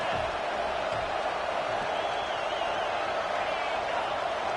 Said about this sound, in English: Crowd being loud.